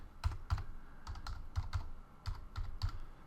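Brisk typing on a computer keyboard, with a dozen or so distinct key clicks in an uneven rhythm, close and clear with no talking.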